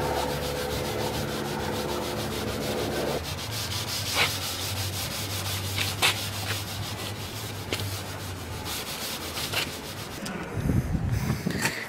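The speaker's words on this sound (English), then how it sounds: "go over the rest of the panel with the pad and the scuffing paste" Steady close rubbing and scrubbing as a grey Scotch-Brite pad with scuffing paste is worked over a car body panel, with a few sharper scrapes and a brief louder burst at the end.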